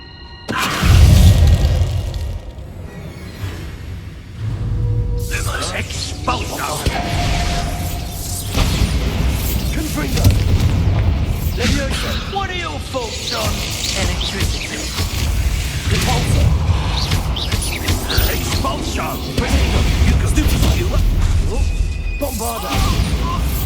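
Bombarda spell blasts in Hogwarts Legacy go off again and again, loud booms and crashing impacts with crumbling debris and rumbling over a long stretch, the loudest burst right near the start.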